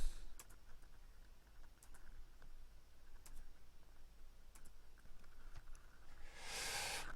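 A computer keyboard tapped sparsely in a quiet room, isolated sharp clicks spaced across several seconds, ending in a brief burst of hissing noise.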